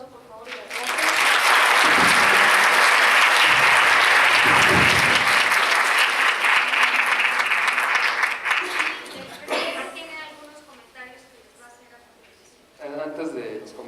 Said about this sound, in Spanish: Entonces le damos un aplauso, por favor